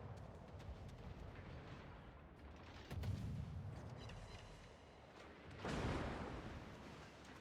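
Naval shells from a Mogami cruiser in World of Warships, heard as two heavy booming salvos with rumbling tails over constant low battle noise, quite faint overall.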